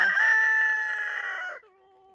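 A hen on a backyard chicken roost gives a loud, drawn-out squawking call lasting about a second and a half, then trails off into a softer, quieter cackle alone at close range.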